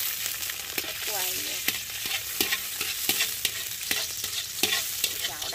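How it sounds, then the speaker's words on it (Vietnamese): Chopped spring onions fry in a pan over a fire by a stream, giving a steady hiss of sizzling oil broken by repeated sharp clinks and scrapes of a utensil stirring, close up and with no talking. "mình sẽ phi hành lên cho nó thơm"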